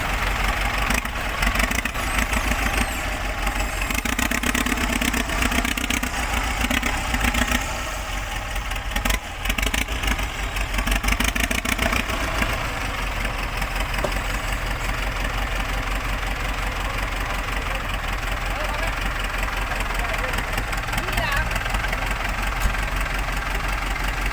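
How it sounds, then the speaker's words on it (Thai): A New Holland 7610 tractor engine idles steadily and loudly nearby, a continuous low rumble with a knocking chug throughout, no voices. "รถไถ นิวฮอนแลนด์"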